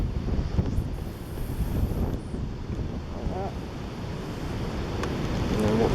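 Wind gusts steadily across a lake, buffeting the microphone with a continuous low roar that swells toward the end, with faint water lapping underneath.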